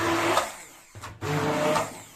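A motor whirs loudly, pausing briefly before starting up again, a steady high-speed grinding hum close by.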